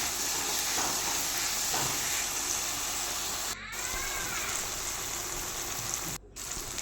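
Masala with cumin powder and Kashmiri chilli frying in oil in a pan, a loud continuous sizzling hiss close up, briefly interrupted twice.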